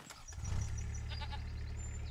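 Goats bleat faintly over a steady low engine-like hum and ambient game noise on a farm in Farming Simulator 25, with soft, wavering calls spread across the moment.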